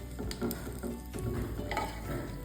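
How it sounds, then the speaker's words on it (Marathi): Dates roast in two spoonfuls of ghee in a pan, making a soft, close sizzle broken by several light scraping stirs over a couple of seconds. "थोडीशी भाजून घ्यायची आहे फक्त दोन मिनिटांसाठी भाजल्यामुळे खजूर जी आहे ती अगदी सॉफ्ट होते"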